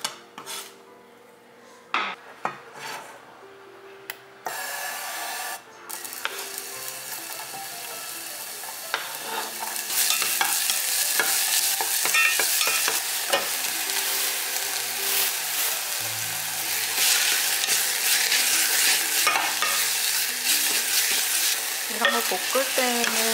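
Leftover minced beef fried rice being stir-fried in a pan, starting with scattered scrapes and knocks of a utensil, then a louder continuous sizzle with busy stirring and scraping against the pan; no speech.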